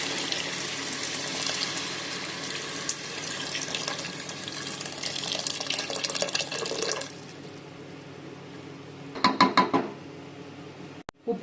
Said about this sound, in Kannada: ಇವಾಗ ನಾನು ಅರ್ಧ ಲೀಟ್ರಷ್ಟು ನೀರು ಹಾಕೋತಾ ಇದ್ದೀನಿ